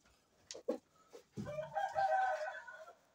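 A rooster being trained for fighting crows once loudly and close by, preceded by a few short clucks, the long call rising and holding before trailing off.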